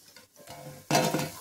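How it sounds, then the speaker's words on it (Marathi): Veg manchurian balls fry in hot oil, a quiet sizzle that swells into a loud, bright burst of crackling bubbling as more go in, close by with a light clink of utensils. "आवाजही येतोय, मस्तच तळले गेले"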